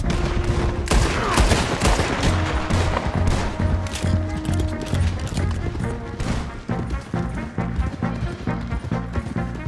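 Heavy gunfire during a shootout in Red Dead Redemption 2, rapid overlapping shots and volleys crackling throughout at close range, with tonal game music underneath.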